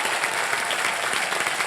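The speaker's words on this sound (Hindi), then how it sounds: "जोरदार तालियां उनके लिए" Applause for a band on the Wheel of Fortune game show stage, a dense, steady burst of clapping from a studio audience, brief and even throughout.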